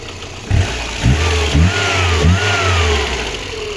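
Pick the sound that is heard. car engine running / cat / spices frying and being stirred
car engine running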